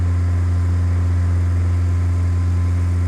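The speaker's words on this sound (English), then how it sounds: "You can hear that engine bogging down, so we know we're climbing now." A small training airplane's engine drones loudly and steadily as it climbs under heavy load, a deep constant hum filling the cockpit with no talk.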